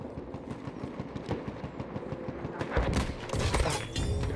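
Gunfire in Battlefield 1 with a sniper rifle in play, a dense run of rapid shots and impacts that swells louder toward the end amid busy battlefield noise, no voices.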